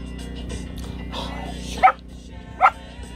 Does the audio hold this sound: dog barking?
yes